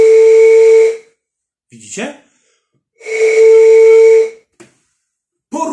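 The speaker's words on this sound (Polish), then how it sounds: "No i teraz zacznę dmuchać." Air blown into a smartphone microphone comes as two long, loud breathy blasts carrying a steady hum-like tone, each lasting about a second, with a short spoken word and small rustles in between.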